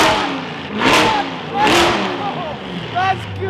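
A supercar engine revs hard in loud, swelling bursts, with two big surges early and a shorter blip near the end, while voices talk and exclaim over it up close.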